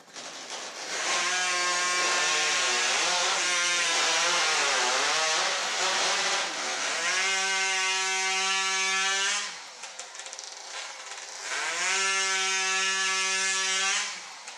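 Chainsaws rip through timber cookies in a STIHL Timbersports British Pro race, loud high whining engine buzz held steady with pitch shifts as the blades bite, briefly dropping off around ten seconds before roaring back.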